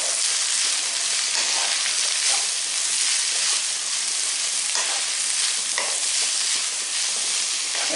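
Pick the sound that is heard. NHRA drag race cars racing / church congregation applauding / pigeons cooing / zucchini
zucchini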